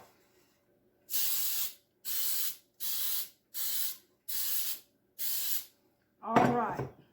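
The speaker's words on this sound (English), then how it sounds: "So let me spray this muffin tin." Six short bursts of cooking spray hiss in an even rhythm, close by, coating a muffin tin, followed by a brief clatter of handling noise.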